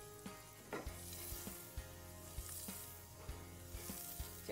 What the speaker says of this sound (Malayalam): ഇപ്പോൾ ചട്ടി ഒന്ന് ചൂടായിട്ടുണ്ട്. ഇനി നമുക്കിതിലേക്ക് കുറച്ച് ഓയിൽ ചേർത്ത് കൊടുക്കാം.